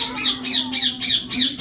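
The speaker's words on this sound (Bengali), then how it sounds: "পাখি ডাকে।" A bird calls in five loud, rhythmic squawking bursts about a third of a second apart, with a faint steady hum underneath and no talking.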